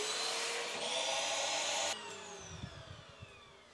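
A vacuum former's loud, steady roar of suction runs for about two seconds, then cuts off abruptly, leaving a fading whine and a few low knocks.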